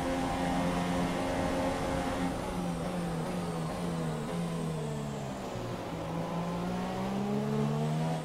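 Formula 1 race car engine from the F1 2017 racing game, running on its second power unit during a wet race at Sochi: a steady, loud high-revving drone with shifting pitch as it accelerates and changes gear, continuous throughout with no talk.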